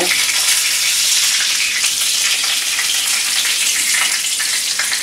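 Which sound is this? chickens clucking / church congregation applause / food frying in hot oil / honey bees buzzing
food frying in hot oil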